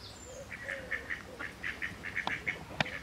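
A hen that has wandered into a sunny garden gives a run of short, repeated clucks and calls at moderate distance, with a couple of sharper squawks near the end and no talking.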